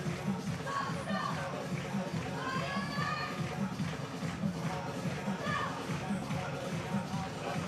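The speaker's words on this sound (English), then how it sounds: "Lots of energy in the crowd this afternoon." A crowd of spectators at the 2025 ICF Canoe Kayak Marathon World Championships in Győr, watching the men's K2 race, makes a dense, steady murmur of mixed voices and movement that stays constant throughout.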